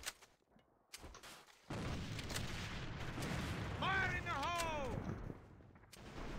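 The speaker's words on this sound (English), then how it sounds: "Fire in the hole!" A grenade blast in the shooter game A.V.A booms into a sustained rumbling roar lasting several seconds, loud and close, with an electronic whine of tinnitus-like tones sweeping over it.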